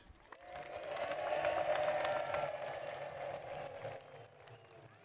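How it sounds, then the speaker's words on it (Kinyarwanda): A crowd at an official public gathering in Ruhango District, Rwanda, bursts into applause mixed with high, wavering ululation that swells quickly, peaks, then gradually thins out over several seconds. "tubaha amashyi n'impundu nyinshi"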